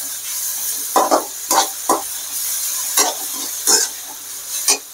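Beetroot sautés in a pan with garlic, ginger, green chili, onion and salt: a steady frying hiss broken by repeated scraping spoon strokes at an uneven pace, close and fairly loud, with no voices.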